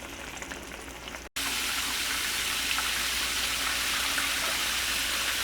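Steady, dense sizzling and crackling of chicken frying in hot oil in a pan, loud and close, with a brief dropout near the start before the frying resumes evenly.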